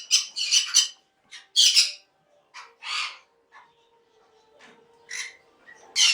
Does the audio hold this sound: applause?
no